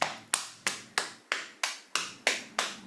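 Hands tap rhythmically on a person's own body, about nine crisp, evenly spaced slaps roughly three per second, close and clear with no talking.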